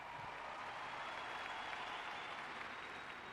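A large crowd applauds steadily at a memorial gathering for Charlie Kirk, a dense, continuous wash of clapping with no pauses, heard from within the audience at moderate distance.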